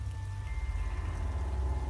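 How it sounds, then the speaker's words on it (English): Steady heavy rain pours down without pause, a dense wash of drumming drops with no voices. "The rain didn't seem to let up"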